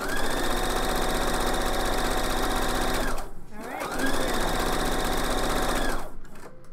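A home sewing machine stitches the side seams of a garment in two long, steady runs of rapid needle chatter with a brief pause between them, close up and loud.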